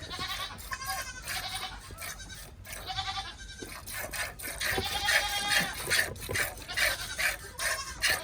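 Two dairy goats, Penny and Noelle, call out repeatedly in loud, close bleats during farm milking chores, the cries overlapping and continuing almost without pause.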